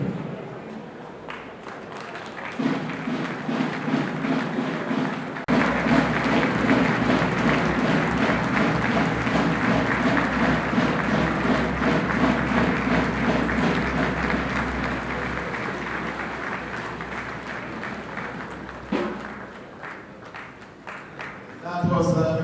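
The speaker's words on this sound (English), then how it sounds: "That was the presidential like applause." An audience at an academic investiture ceremony breaks into sustained, dense clapping for about fifteen seconds in a large room, with a voice speaking briefly before and after.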